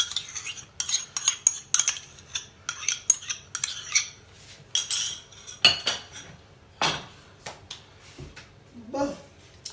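A spoon or utensil clinks and scrapes in a bowl while cucumber and pickles are mixed with vinaigrette. Irregular taps and stirring come close and fairly faint, with brief clatters.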